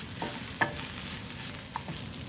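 Tomato paste cooks in a pot over lowered heat for chicken tortilla soup, a quiet even sizzle broken by a few soft scraping clicks of a spoon.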